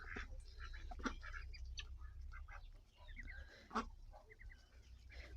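Runner ducks, guinea fowl and chickens chatter in a farmyard at their evening feeding, with scattered quacks, clucks and squawks coming in short overlapping bursts over a low background hum, mostly close and moderately quiet.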